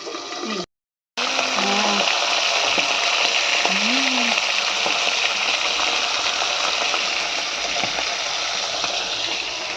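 Fish frying and spattering in hot oil in a home kitchen: a steady, loud hiss and crackle runs almost unbroken after a brief gap near the start, with faint voices underneath.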